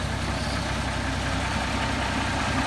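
A M756A2 pipeline truck engine idles steadily, a continuous low rumble that holds an even level throughout with no talking.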